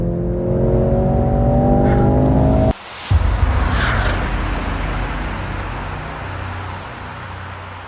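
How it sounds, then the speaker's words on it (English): Mercedes-AMG C 63 S E-Performance plug-in hybrid with 680 horsepower accelerating hard, engine note climbing steadily, a sharp gearshift break, then a continued rushing roar with road and wind noise, loud and close. "With 680 horsepower and over 1000 Newton meters of torque, acceleration is savage."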